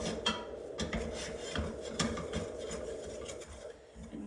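Choux pastry dough stirred in a pan on a low stove burner, with a continuous close scraping and rubbing of the spoon against the pan and light knocks and clicks spread through it, unaccompanied by talk.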